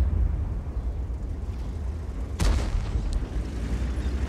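A tank cannon shot in World of Tanks, a single sharp boom partway through over a low rumbling battle background.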